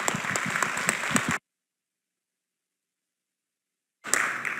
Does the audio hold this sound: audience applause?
yes